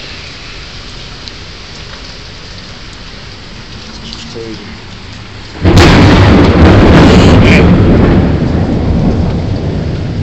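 Heavy rain pours down on a street, with a thunderclap adding a sudden loud roar partway through that stays dense and heavy afterwards, and someone talks briefly over it.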